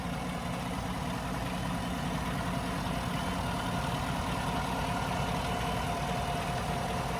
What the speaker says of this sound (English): As you guys can tell, nice and smooth running engine, no odd noises or vibrations